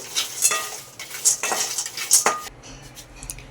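Peanuts roasting in a pan are stirred with a metal utensil, making several rhythmic, close scraping strokes against the pan with a light sizzle underneath. The stirring fades to quieter rattles at the end.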